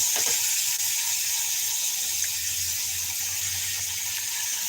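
Chopped onion dropped into hot oil gives a loud, steady, close hiss that stays unbroken throughout, with a faint low hum beneath and no voices.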